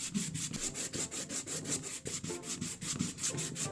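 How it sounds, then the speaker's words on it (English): Rhythmic back-and-forth rasping of 220 grit sandpaper over a clay sculpture of WALL·E, steady repeated strokes at close range with no voices. "I say a big hello to 220 grade sandpaper"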